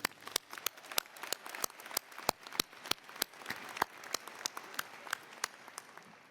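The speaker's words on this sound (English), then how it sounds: "Please join me in giving them a round of applause." A graduation audience applauds with sharp, separate claps that ring out at a steady rhythm, fairly faint and distant, with no talk over them.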